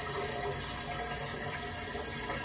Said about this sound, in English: I'm gonna turn on the water